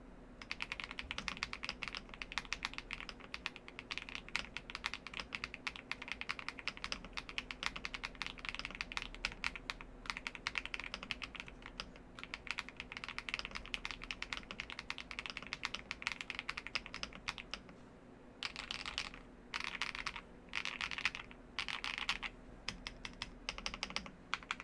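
Rapid, steady typing on an Epomaker Tide65 mechanical keyboard, dense clacky keystrokes running continuously at close range, with a couple of brief pauses near the end.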